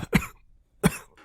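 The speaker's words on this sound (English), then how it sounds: "reflexively coughs a little bit when the pressure from the chain is released even a little bit off his throat" A man with a chain pressed against his throat coughs reflexively, giving two short, close, harsh coughs separated by a brief silence, with a faint breath at the end.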